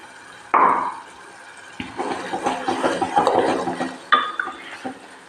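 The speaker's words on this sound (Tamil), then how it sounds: "அது போட்டு இந்த மாதிரி நல்லா கிண்டி கொடுங்க" A spoon stirs ground tomato, coconut and onion paste into a brinjal and cowpea curry in a pan, making close, intermittent scraping and sloshing strokes with short pauses between them.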